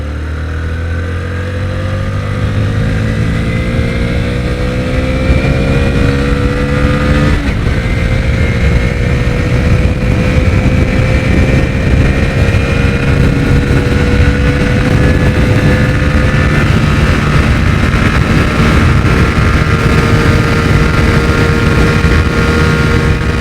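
A Hero HF Deluxe motorcycle engine revs up and accelerates steadily toward about 110 km/h, its pitch climbing through the gears, loud and continuous with no talking.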